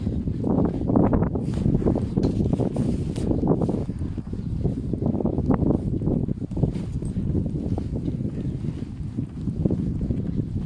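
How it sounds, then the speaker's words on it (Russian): Strong snowy winter wind in Pechora, Komi, roars and buffets the microphone in a continuous low rumble with gusty surges throughout; no one speaks. "Но сильный ветер и снег, как и всю зиму у нас."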